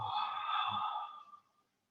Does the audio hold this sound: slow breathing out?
yes